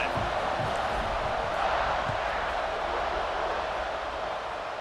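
A College Football 26 video game stadium crowd roars in a continuous, dense wash of cheering that holds steady and eases slightly near the end.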